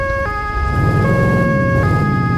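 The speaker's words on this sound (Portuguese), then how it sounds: "Vamos desligar essa sirene aqui. Que dói a cabeça" Wailing emergency siren from a police car in the Crash Time 5 driving video game, steady and loud throughout over low engine and road rumble, with repeating rising and falling tones.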